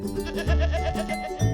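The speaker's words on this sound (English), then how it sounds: "And here come the goats." Goats bleat in a farm setting, including a brown goat and Angora goats with a kid, sounding as a rough, wavering series of calls over a dense, steady background.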